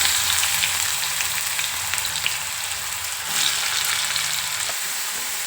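Cumin seeds and chopped onion hit hot oil already holding mustard seeds, giving a steady, dense sizzle and crackle that runs the whole time, swelling briefly midway, with no talking.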